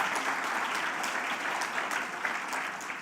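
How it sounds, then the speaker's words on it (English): A conference audience claps steadily and enthusiastically, a dense wash of applause that holds for a few seconds. "Big round of applause to our judges."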